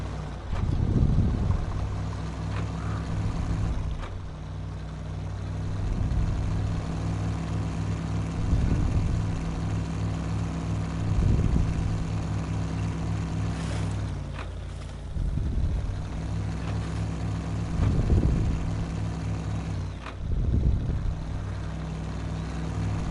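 Engine of a 1979 CT-300 pickup in the SnowRunner video game, a steady droning hum that rises and falls as it drives along, with periodic louder swells, close and continuous, no talking.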